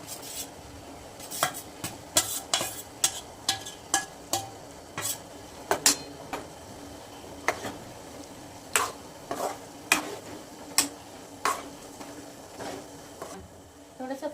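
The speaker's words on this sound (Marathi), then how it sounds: "आपण ह्याच्यात बटाटा टाकून घेऊया" Potatoes are tipped into a pan already holding peas and stirred, with a soft sizzle beneath repeated sharp clinks and scrapes of a spoon against the metal pot, coming in irregular bursts up close.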